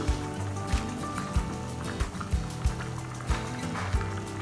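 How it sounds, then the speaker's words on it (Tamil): A pot of okra sambar gravy boils, giving a thick bubbling with regular low plops and bursts at close range, no voices. "இந்த பக்கம் வந்து குழம்பும் கொதிச்சிருச்சு"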